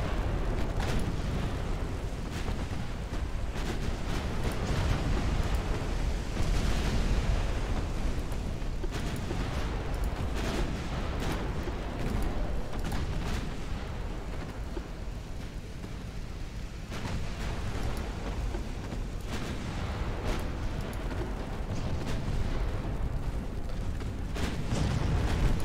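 Battleship artillery fire in the naval game Ultimate Admiral Dreadnoughts, a continuous rumble of distant heavy booms and explosions blending into a dense, loud roar.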